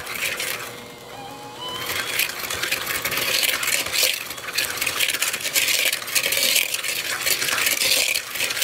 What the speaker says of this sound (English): We have the 6 egg yolks here in the bowl, and we're going to add the sugar, the 2 cups of sugar, and we're going to start mixing that in together